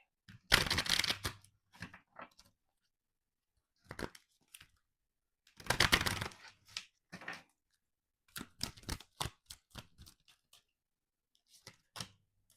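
Tarot cards being shuffled by hand, a run of crisp riffling bursts and quick flicks that come in clusters with short pauses between them, close and fairly quiet, with no one talking.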